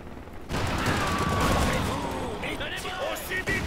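Light machine gun fire crackles in a WWII strategy video game, a dense continuous rattle of shots and battlefield noise beneath steady talking.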